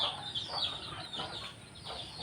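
Chickens cluck softly in a short stretch of low, scattered calls, with faint background noise throughout, in a backyard flock kept with ducks.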